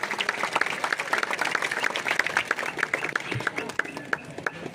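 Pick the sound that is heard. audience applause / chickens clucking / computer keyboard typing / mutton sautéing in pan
audience applause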